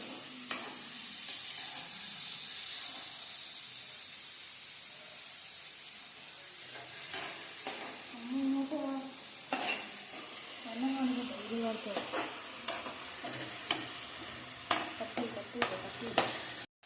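Chili and onion sautéing in a pan on low flame for a spicy pasta, a steady close sizzle and hiss with stirring scrapes and clanks that grow busier later, and a voice talking faintly in places.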